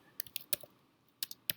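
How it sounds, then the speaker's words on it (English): Text typed on a computer keyboard: a few quiet, close keystrokes in two short bursts, with no talk. "I'm just typing some text"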